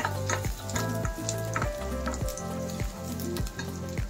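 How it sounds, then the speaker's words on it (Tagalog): Onions sizzling loudly in oil in a pan while being stirred, with rhythmic scraping strokes about every half second over a constant close frying hiss. "pwede na natin ilagay yung ating sibuyas. Then, haluin muna natin siya."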